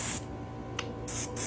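Primer hisses from an aerosol spray can in two short bursts, one at the start and a longer one near the end, with a brief puff in between, close and fairly quiet.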